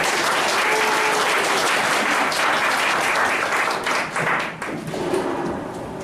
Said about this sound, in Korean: 큰 박수로 좀 맞아주시기 바라면서 소개해 드리겠습니다